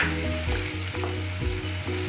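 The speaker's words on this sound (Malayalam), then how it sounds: "തക്കാളി സവോളയെല്ലാം ഒന്നിച്ചാക്കി ചോപ്പ് ചെയ്തത് നമുക്ക് വഴറ്റാം" Chopped tomato and onion with ginger-garlic paste sauté in a pan for an Kerala-style egg curry, giving a steady, close, loud sizzle with faint stirring scrapes throughout, no voices.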